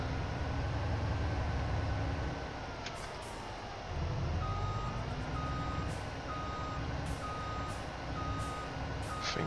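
A vehicle backing its hitch up to a trailer on a farm, steady evenly spaced reversing beeps ringing over a continuous low engine drone.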